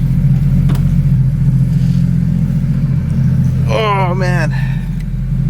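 A Porsche 911 GT3 RS with the Weissach package rumbles loudly at close range with a deep, steady engine drone throughout, while a voice speaks briefly over it.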